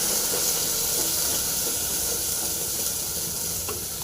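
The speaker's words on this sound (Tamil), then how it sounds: "அதை இடிச்ச பூண்டு நல்லா கலக்கலாம்" Crushed garlic is stirred into rasam in a pot, giving a constant hissing, steamy sizzle with faint occasional clinks, close and steady with no talk.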